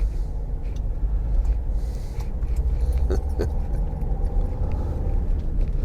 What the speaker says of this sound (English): Oh, car just coming right out.